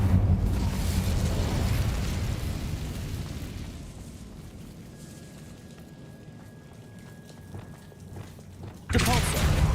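An Incendio fire spell from a Harry Potter video game bursts out loud at first with a deep whooshing rumble, fades into a low crackling tail, then a fresh loud burst hits near the end.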